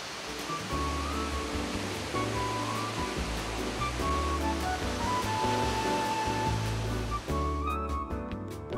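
Kegon Falls in Tochigi, Japan: a constant, dense roar of falling water, broad and loud throughout without pause.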